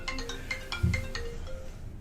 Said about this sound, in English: Excuse me, I got a phone call, but I'll get to it later.